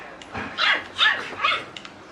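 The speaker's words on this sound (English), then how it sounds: "Look at the doggy calling you." A dog gives three quick yappy barks in a row, close and fairly loud, followed by a faint whimper.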